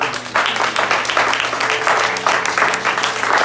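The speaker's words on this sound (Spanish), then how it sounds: "Vamos a darle un fuerte aplauso al Señor." A church congregation gives the Lord a loud round of applause during a service: dense, steady clapping from many hands for the whole stretch, close and full, with faint tonal hum beneath.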